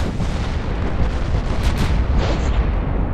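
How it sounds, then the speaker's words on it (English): A broadside from 18-inch naval cannons in the naval combat game Ultimate Admiral Dreadnoughts: a loud, sustained, rumbling boom of heavy gunfire that rolls on without pause. "Well, 4 18-inch cannons hitting them."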